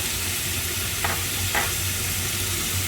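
Garlic going into a hot pan of stir-fried pork with leek, a loud, constant close sizzle with a couple of brief scraping stirs and no voices.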